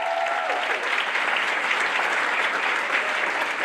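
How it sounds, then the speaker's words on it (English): Steady, dense audience applause fills a white coat ceremony hall for the faculty of a physical therapy doctoral class, loud and continuous throughout with no pauses. "Applause for the faculty, Ms. Francesca Menta,"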